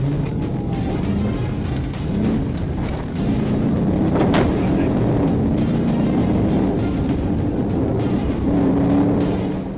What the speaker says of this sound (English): suddenly fled, initiating a dangerous high-speed pursuit that included near head-on collisions and reckless lane violations